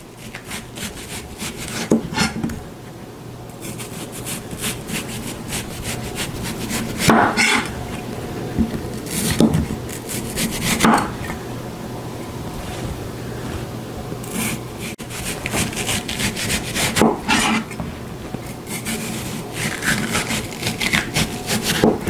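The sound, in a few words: knife cutting rind off a watermelon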